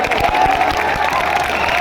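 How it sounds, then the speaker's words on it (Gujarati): A crowd at a village prize draw claps steadily and densely throughout, with faint cheering and some voices mixed into the applause. "જોરદાર તાળીઓ બજાવો"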